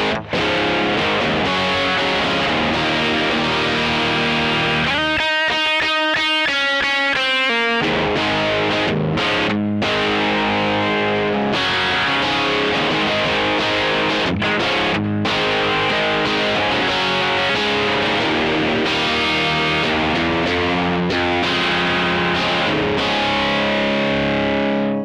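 An electric guitar played through a TC Electronic Grand Magnus distortion pedal gives thick, saturated chords and riffs, with a stretch of choppy, rhythmic strumming, loud and continuous throughout without talk.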